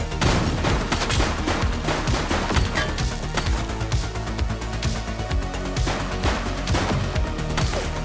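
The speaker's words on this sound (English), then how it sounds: "Shots fired!" Rapid, continuous gunfire from a police shootout in the video game The Precinct, dense overlapping bursts and volleys filling the whole stretch at steady loudness, with no talk.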